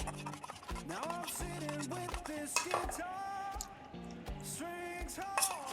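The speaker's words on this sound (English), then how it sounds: "And then tomato ketchup, if you like it quite sweet, put in a bit more. Put in about 2 tablespoons. All right, give it a mix." Ketchup and sauce are stirred into a marinade for crispy chilli beef, a utensil clinking and scraping against a bowl in quick repeated strokes, with bright metallic chinks throughout.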